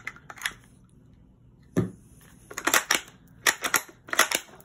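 A Ruger Ranch rifle in 7.62x39 with a 16-inch barrel, optic and compensator has its action worked by hand: a burst of sharp metallic clicks and clacks, then a second run of several crisp mechanical snaps close up, with no talk.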